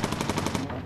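Rapid bursts of machine gun fire from a bomber's turret in the Bomber Crew video game, a fast rhythmic stream of shots at moderate level that thins out and stops just before the end.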